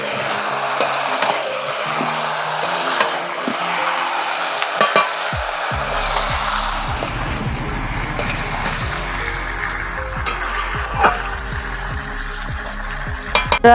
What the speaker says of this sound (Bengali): এবার মাংসটাকে একটু সময় নিয়ে কষিয়ে নিতে হবে